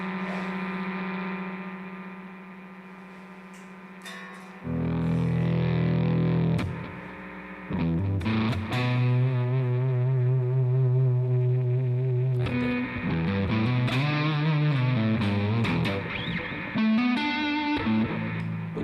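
An electric guitar played through a Swollen Pickle fuzz pedal gives heavily distorted, sustained chords and bending notes over a steady mains hum, loud and close, with quieter gaps between phrases.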